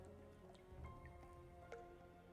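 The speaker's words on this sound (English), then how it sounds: "the primary heavy drip that you've been hearing since you get in here" A heavy water drip falls repeatedly in a cavernous space as part of a tabletop role-playing game's ambient soundscape, faint and irregular over a low, sustained tonal background.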